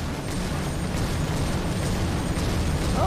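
Gas cannon fire during an airship battle in the game Guns of Icarus, a dense continuous roar of blasts and rumbling bursts, loud and close, with no talk.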